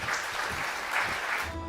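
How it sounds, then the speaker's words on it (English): A large crowd cheers and roars in a fantasy video game cutscene, a dense, continuous wash of applause and shouting that stays loud and steady throughout. "a tidal wave of cheering washed over Kutaro"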